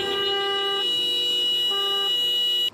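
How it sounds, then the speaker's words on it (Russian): Car horns honk together in a steady, loud protest chorus, sustained tones layering almost unbroken for nearly three seconds before cutting off sharply. "массово сигналят."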